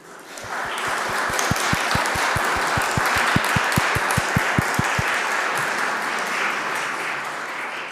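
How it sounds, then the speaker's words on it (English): An audience in a Berlin mosque claps, a dense sustained applause over a deep rhythmic thumping that runs for about five seconds, then the clapping carries on alone and thins toward the end. "And you are clapping, Sie klatschen"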